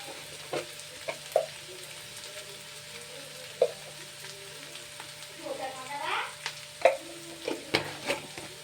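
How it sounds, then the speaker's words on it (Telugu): Ginger paste and masala powder fry in a pan with a soft continuous sizzle, punctuated by scattered clicks and scrapes of stirring, close and moderately quiet, with faint speech in the background. "అల్లం పేస్ట్ వేగింది కదా, అందులో కొంచెం మసాలా పొడి వేయాలి."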